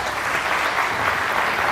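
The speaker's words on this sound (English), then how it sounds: "big applause, please" An audience at a startup conference arena stage breaks into sustained applause, a dense even wash of clapping from a large crowd throughout.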